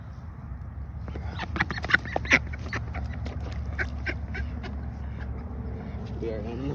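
A small duck rescued from a hole quacks in a few sharp bursts, close and fairly loud, over a steady low rumble, with some voices around it.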